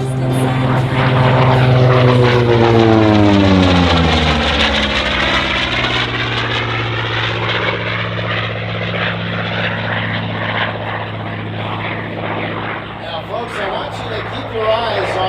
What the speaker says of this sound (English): Listen to that engine wind up as he comes in from our right with a topside pass.